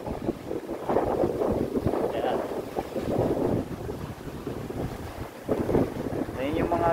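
Big sea waves and wind batter the deck of a Royal Caribbean cruise ship, with heavy gusts of wind noise buffeting the microphone and the rushing surge of water, while voices speak faintly in the background.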